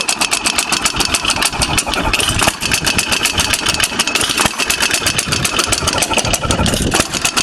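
An Ideal hit and miss mower engine running, a loud, close, rapid even chugging of firing beats that holds steady throughout.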